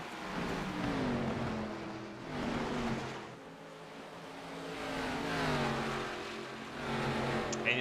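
An ARCA stock car in a racing video game, on the Phoenix track, holds a steady engine drone. The pitch swells and dips in repeated waves as it accelerates and lifts, with no talk over it.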